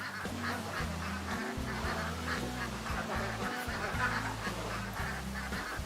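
Ducks in a duck pen give a dense, continuous chorus of overlapping quacks and honks, loud and close, with no talk.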